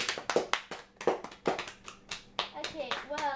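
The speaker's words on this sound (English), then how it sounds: "Everyone give him a round of applause." A small group claps after an interview, sparse uneven hand claps in short bursts close by, with children's voices chattering between and over the clapping.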